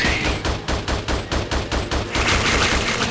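Rapid gunfire in the Xbox 360 shooter Attack Of The Movies 3D, a steady rhythm of about a dozen loud, evenly spaced shots that merge into a denser burst near the end.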